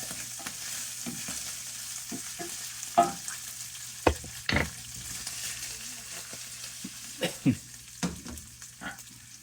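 Pork sausage meat browns in a hot pot under a soft, steady sizzle, while a utensil stirs it with several sharp scrapes and knocks heard up close, no voices present.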